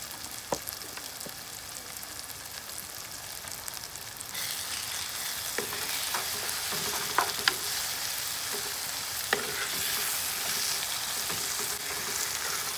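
Tomato and onion for egg curry frying in a pan, a continuous sizzle that grows louder partway through, with occasional sharp clicks and scrapes of stirring.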